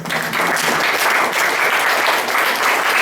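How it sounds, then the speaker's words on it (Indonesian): Sustained applause from a school audience at the opening of an Indonesian-language practical exam at SMA N 1 Purworejo, dense steady clapping filling the whole stretch with no talk over it. "beri aplaus untuk adik-adikmu kelas"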